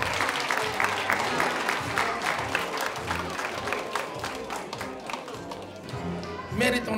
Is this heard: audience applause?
yes